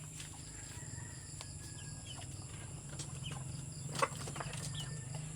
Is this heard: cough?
no